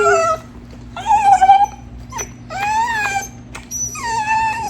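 A puppy whimpers and whines in several high, wavering cries separated by short pauses, close and fairly loud over a steady low hum.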